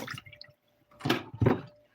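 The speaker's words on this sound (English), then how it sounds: "I was just draining some of the water in there." Water draining from plant pots, two or three short wet splashing bursts with dripping and trickling between them, close and fairly clear, no talking.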